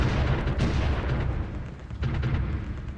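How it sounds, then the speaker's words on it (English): Artillery fire in the strategy game Supreme Ruler Ultimate, heard as a dense, continuous low rumble of overlapping booms with a few sharper bursts, steady and moderately loud with no talking. "they're going to get destroyed by the artillery"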